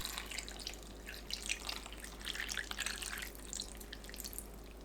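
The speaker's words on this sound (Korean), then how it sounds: "양념을 골고루 부어주세요." Seasoning sauce for braised tofu with green and red chili peppers is poured evenly over the pot, giving a soft continuous liquid trickle and drip, close and fairly quiet, with no talking.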